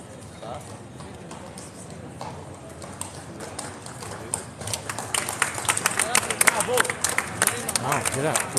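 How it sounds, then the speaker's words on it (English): Tourists applaud outdoors beside Household Cavalry horses, clapping building in the second half over hoof clip-clops and a murmuring crowd, with someone talking throughout. "Round of applause from the tourists, everybody."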